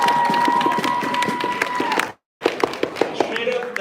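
Audience applause at an awards ceremony, scattered clapping from a crowd over loud talk and background noise, briefly dropping out before sparse claps resume.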